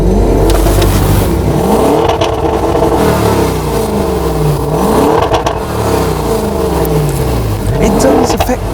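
A car engine revving up and down repeatedly in sport mode, the pitch rising and falling in sweeping waves, loud and close.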